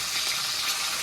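Hilsa fish frying in a wok, giving a steady, close, even sizzle with a bright hiss that holds without break and has no voices over it.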